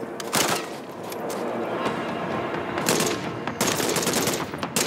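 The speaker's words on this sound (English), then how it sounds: "Solid shots, Farah." Automatic gunfire in the Call of Duty: MW3 campaign, dense rattling bursts of rapid shots from nearby weapons, nearly continuous with slightly louder flurries near the start and end.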